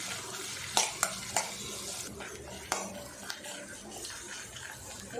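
Onions and dried red chilies sauté in oil for a coconut-free chutney, giving a soft steady sizzle with a few sharp clicks of a spoon against the pan early on.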